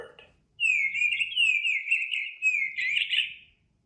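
A bluebird sings a bright, warbling run of chirps and whistled notes for about three seconds, close and clear, with no other sound around it.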